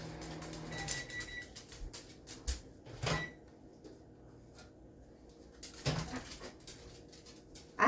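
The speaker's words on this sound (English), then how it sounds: "I have a puppy following me around." A puppy in a home kitchen pants and gives a few soft whimpers, close by and intermittent, mixed with occasional clatters of cupboards or utensils and brief bursts of handling noise.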